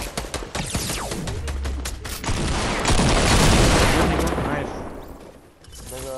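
Rapid bursts of gunfire from a video game, with clustered shots and booms crowding the first seconds, then a dense roaring rumble swelling and fading, with a voice speaking over parts of it.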